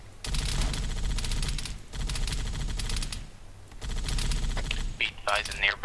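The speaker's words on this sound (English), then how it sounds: "You know we're still getting shot at, right?" Sustained bursts of gunfire ring out in an Arma 3 jungle firefight, dense rattling volleys loud and close in three long stretches with brief gaps, voices shouting underneath and a radio-like crackle near the end.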